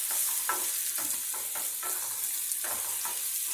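Stirring food around a hot frying pan while it fries, steady sizzle underneath with repeated scraping strokes of a utensil, close and fairly loud, no talking.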